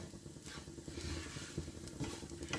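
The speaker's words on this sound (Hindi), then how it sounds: "ये मैंने फ्राई नहीं करना, बस हल्का सा सौते करना है इसको।" Ground dry fruits being lightly sautéed in a warm pan with ghee for dry fruit laddu, giving a steady soft sizzle with stirring scrapes throughout, close and moderately loud, no talking.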